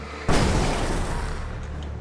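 A flashbang going off in the game Alan Wake Remastered, a sudden loud bang after a brief quiet moment that rolls into a long, roaring wash of sound and slowly fades.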